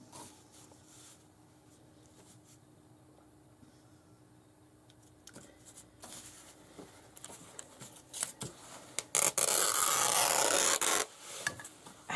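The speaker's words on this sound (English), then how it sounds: "if you can rip the fabric, if it's on the straighter grain, it should rip fairly straightly" Fabric being torn by hand along its straight grain while making a sewing-project pencil bag: soft rustling and handling first, then a loud, sustained ripping tear of about two seconds near the end, with no talking.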